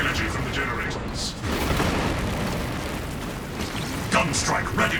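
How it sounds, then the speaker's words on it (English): Heavy booming fortress cannon fire in a video game and rumbling blasts layered under battle noise, dense and continuous with a few sharper hits near the end. "Feed the cannons with the energy from the generators."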